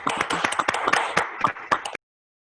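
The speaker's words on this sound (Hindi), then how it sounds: "सर को प्लीज आप ताली बजा करके सर का धन्यवाद कीजिए इस चीज के लिए" Many participants in an online meeting clap their hands together, a dense burst of overlapping claps lasting about two seconds before stopping abruptly.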